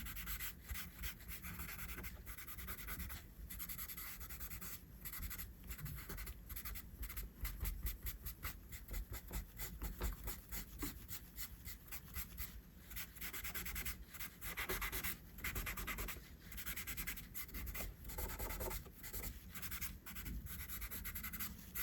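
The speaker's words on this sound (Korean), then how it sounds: "그리고 나서 휴지를 사용해서 번지게 할 거예요." Tissue rubbed and dabbed over pencil shading on paper to blend it, a steady run of soft, close papery scrubbing strokes in quick rhythm, with no talking.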